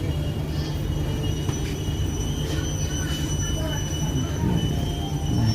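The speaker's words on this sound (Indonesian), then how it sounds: "Kereta Matarmaja relasi Malang Pasar Senen telah tiba di stasiun Tegal." Matarmaja passenger train on the Malang–Pasar Senen route arriving at Tegal station in Indonesia, a steady rumbling rail noise with low hum and faint wheel squeal throughout, with a station announcement voice over it.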